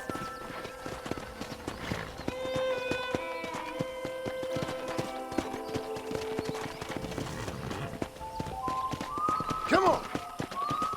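A horse's hooves clip-clop steadily while riding in the game Red Dead Redemption (remastered, Xbox One), with a continuous rhythmic beat under background music and occasional voices.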